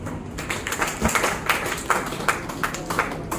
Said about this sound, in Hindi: बढ़िया, तालियां हो जाए उनके लिए।